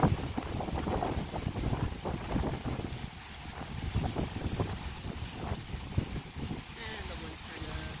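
Strong wind buffets the microphone on a boat out on Seneca Lake before an incoming storm, a steady roaring gust that continues throughout, with some voices faintly mixed in.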